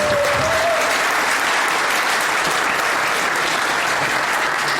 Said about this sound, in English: Big round of applause for Richard Starkey,